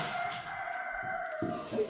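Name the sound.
rooster crowing next door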